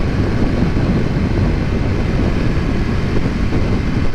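Triumph Scrambler 400 X motorcycle engine holds about 6,000 RPM at roughly 60 mph on a country road, a loud steady drone blended with heavy wind rush and no talking.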